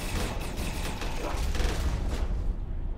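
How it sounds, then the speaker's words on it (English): Missile launches and combat in the space strategy game Starsector, a dense continuous barrage of bursts and rumbling blasts, loud and sustained, with no talk. "they're launching missiles down here"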